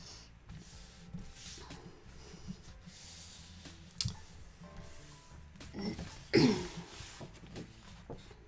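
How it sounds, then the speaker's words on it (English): Someone in a quiet room, setting up a planner, clears their throat and coughs a few times. The coughs come as separate, close bursts, with the loudest one near the end, among soft clicks and paper handling. "Sorry guys for all the coughing."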